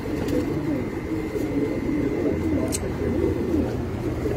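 A racing pigeon on a rooftop coos in low, rolling notes that recur throughout, near, under steady background noise and a faint high hum, with no talk.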